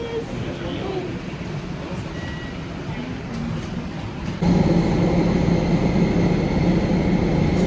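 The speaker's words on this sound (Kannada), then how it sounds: "this is our flight to Paris" Airliner cabin on a flight to Paris, a steady droning hum that steps up louder partway through while someone speaks over it.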